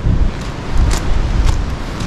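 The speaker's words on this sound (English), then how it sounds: "I can't go up there in this wind" Storm Debi batters a derelict farm in Ireland with strong wind, heard as a loud, steady roar and buffeting rumble against the microphone.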